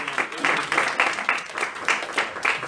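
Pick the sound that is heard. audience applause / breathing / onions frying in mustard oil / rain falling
audience applause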